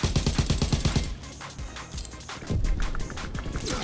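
Rapid FG 42 rifle hip-fire in the Call of Duty WW2 video game, loud bursts of automatic gunshots up close, followed by sporadic shots and scattered in-game clatter.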